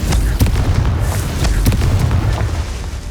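Confringo spells fire off in a Hogwarts Legacy fight against a group of enemies, a dense, loud stretch of deep booms and rumbling blasts with sharp pops scattered throughout.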